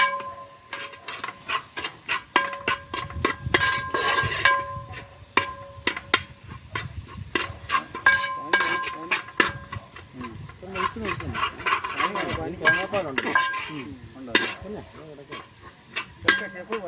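Sliced tomatoes sizzle and hiss in a hot pan as they are stirred and sautéed for a Kerala-style chicken dish cooked with coconut milk, with steady frying crackle and repeated scraping stirs throughout.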